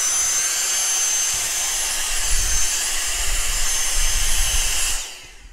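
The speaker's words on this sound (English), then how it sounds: "So the hand vac is a great tool here in the Lego room." A handheld vacuum sucks dust off LEGO bricks in a LEGO room, a steady loud motor whine that runs for about five seconds and then cuts off abruptly.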